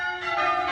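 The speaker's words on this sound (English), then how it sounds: "But just listen to those bells." Church wedding bells ring out in a steady, sustained peal, their bright overlapping tones hanging in the air at moderate loudness with no voices present.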